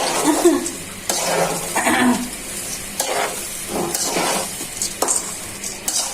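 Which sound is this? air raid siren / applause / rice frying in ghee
rice frying in ghee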